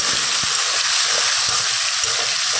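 Water is poured into spice masala frying in a pan for a Bengali puishak chechki: a loud, continuous hissing sizzle that stays even throughout, with a few soft knocks of a utensil against the pan. No voices.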